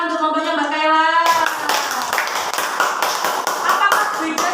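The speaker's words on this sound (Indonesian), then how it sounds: "tepuk tangan untuk kelompoknya Mbak Kaila." A classroom group at a special-needs school in Lamongan claps for a student team during an Islamic education lesson. A teacher's voice comes first, then steady, close, busy applause fills the rest.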